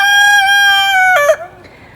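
A rooster in a backyard chicken flock crows close and loud, a long harmonic call that breaks off sharply, followed by a brief softer cluck.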